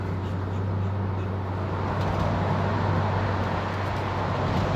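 A supercharged 2005 Corvette C6 rolls over consecutive road bumps, heard from inside as a steady, loud road and engine drone with a low hum and no distinct knocks.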